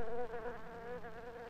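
A bee buzzing steadily at close range, a continuous droning hum with a slight wavering pitch, heard alone without any talk.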